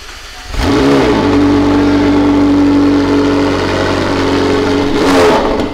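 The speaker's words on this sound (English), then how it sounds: "this might be the last time you hear a cold start of this vehicle with a" McLaren supercar with 760 horsepower and stock sport exhaust fires up from a cold start, a loud rev flaring at once and then settling into a steady, droning high idle, with a second short blip near the end.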